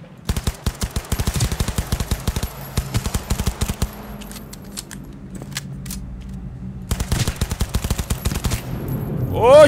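Loud automatic gunfire in the video game Cyberpunk 2077 during a fight in the slums, with rapid bursts of shots from the start, a quieter stretch in the middle, then more sustained firing toward the end.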